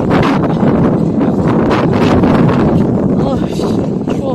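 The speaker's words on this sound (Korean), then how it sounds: "바람 너무 와." Strong outdoor wind buffets the microphone in a constant loud roar with gusty swells, and voices are partly heard beneath it.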